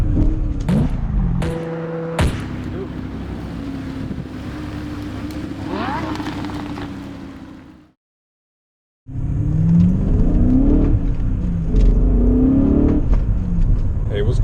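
BMW M5 engine growls and revs while the car turns around, a loud, close rumble with wind buffeting, cutting out to a brief silence before the engine sound returns.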